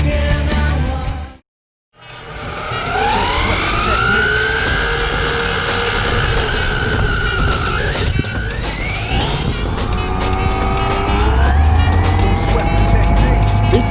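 A small, fast RC buggy drives along a public street, its high-pitched electric motor whining upward in pitch and holding steady after a brief gap, then rising again as it speeds on amid outdoor background noise.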